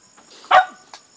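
Puppies being fed give a single short, close yip or bark followed by a faint little whimper, with quiet background insect-like noise.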